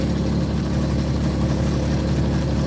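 A tractor engine idles with a steady low rumble continuously at close range, droning evenly without pauses.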